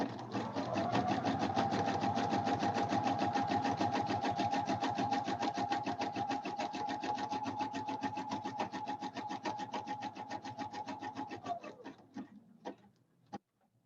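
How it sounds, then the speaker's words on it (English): A sewing machine stitches a throw pillow in one long continuous run of rapid, even needle ticks, close and loud. It slows and stops near the end, then gives a few isolated clicks. "I reach the end and I back stitch. Then I go forward and I stitch right off the end."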